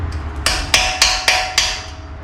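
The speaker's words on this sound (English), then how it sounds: "Pound it past all that corrosion." A hammer pounds on a corroded brake caliper of a Roxor build, six sharp metallic strikes spaced irregularly, loud and close.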